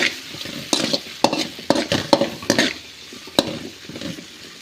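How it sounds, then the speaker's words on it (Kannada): Chopped tomato stir-frying in a pan, with spatula strokes scraping and knocking against the metal in irregular bursts over a steady low sizzle, close and clear, no voices. "ಈ ರೀತಿ ಚಿಕ್ಕದಾಗಿ ಕಟ್ ಮಾಡಿ ಹಾಕ್ಕೊಳ್ಳಿ ಸೊ ಅದು ಕೂಡ ಸ್ವಲ್ಪ ಟೈಮು ಫ್ರೈ ಮಾಡ್ಕೊಳ್ಳಿ"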